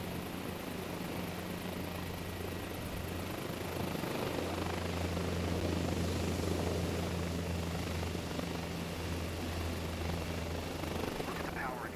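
Helicopter rotor and turbine engine from Microsoft Flight Simulator 2024, a steady drone with a low rotor hum that runs through the whole stretch at moderate level. It is heard over rotor stall and settling into downwash from excess power.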